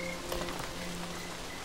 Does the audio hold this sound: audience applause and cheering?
no